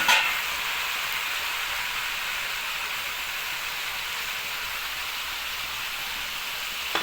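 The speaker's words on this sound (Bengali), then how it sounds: "এইভাবে মিক্স করে নিয়ে একটু ফ্রাই করে নিতে হবে।" Vegetables and potatoes frying in a pan for a carrot dish, a steady hissing sizzle that holds evenly throughout at moderate loudness, with no voices.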